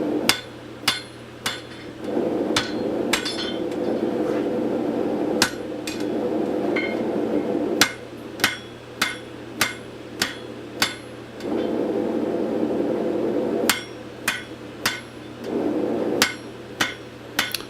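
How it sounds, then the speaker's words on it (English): A hammer strikes a piece of 1 inch by 3/8 steel flat bar on an anvil, drawing it out in sharp ringing blows, some in quick clusters, others spaced, close and loud over a steady low hum. "About the slowest way to reduce metal, to draw it out, is simply hammering flat on the anvil."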